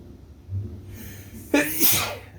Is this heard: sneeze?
yes